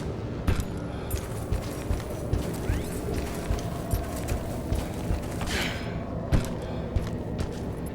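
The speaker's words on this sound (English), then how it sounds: "Walking over grass changes the footstep type." Steady, regular footfalls thud along over grass in a video game, over a dense, noisy ambient bed, a continuous walking rhythm with no pauses.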